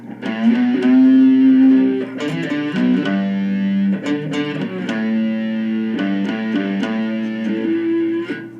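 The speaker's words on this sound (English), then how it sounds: "So I'll play that lick for you with the distortion" A distorted three-string fretless electric guitar plays a sustained, singing melodic lick with sliding notes through a distortion pedal, loud and close, alone without any voices.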